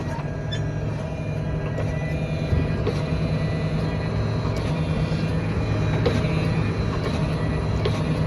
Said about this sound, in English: Plough's being lifted up.